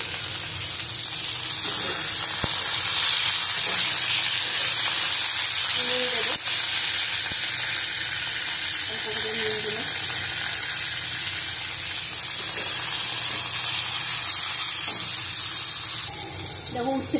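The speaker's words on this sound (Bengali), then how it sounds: "দেখো, উচ্ছেটা ভাজা হয়ে গেছে আমার।" Bitter gourd frying in a pan, a loud, unbroken sizzling hiss lasting throughout, with faint voices briefly audible underneath.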